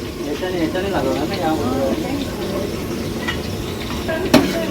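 Onion browning in a pan for a Satyanarayan puja meal cooked by women in a chawl: a steady, close sizzle and crackle under people talking, with a sharp clink near the end.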